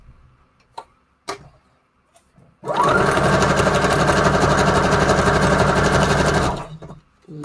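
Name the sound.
sewing machine stitching through a junk journal piece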